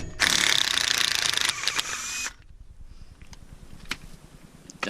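A ratchet wrench clicks rapidly and loudly up close as parts are removed for a disc brake conversion, then stops, leaving a few faint clicks and clanks.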